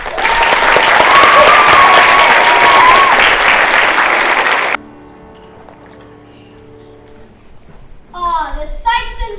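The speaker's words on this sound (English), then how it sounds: "So give them all a round of applause" A school audience at a fourth-grade play gives loud, dense applause for nearly five seconds. The clapping then cuts off into a quiet pause, and a voice follows near the end.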